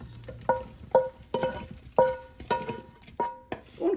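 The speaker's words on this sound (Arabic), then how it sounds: "هانتو كنبقاو نحركو لغايه ما ينشف من الماء، ما كيبقاش الماء." Seafood and shellfish pastilla filling stirred in a hot pan until dry, a spoon scraping and knocking the pan in regular strokes about every half second over a low sizzle, close up and alone.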